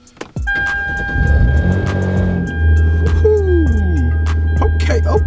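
Cold start of a VW GTI Mk7 fitted with a CTS downpipe: a starter crank, then the engine catching and settling into a loud, steady idle, with a rising whine partway through.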